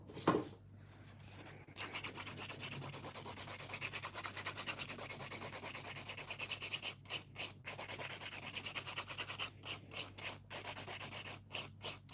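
A nail file is worked over acrylic nails in a long run of close, steady rasping strokes, with short pauses between bursts toward the end.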